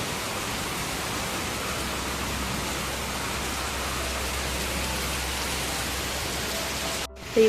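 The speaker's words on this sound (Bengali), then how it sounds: "বাপ কি বৃষ্টি হচ্ছে" Heavy rain pours down in a dense, unbroken hiss, loud and steady, ending with a brief click near the close.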